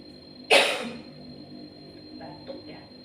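A single sharp cough bursts out in a home kitchen, loud and close, followed by faint quieter throat sounds and a brief murmur.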